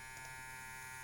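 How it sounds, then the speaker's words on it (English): A Philips BT5200 beard trimmer runs with a steady, even electric buzz and hum, close and unbroken from start to finish, with no talking over it. "Now I'm going to show you guys how this shaver actually performs"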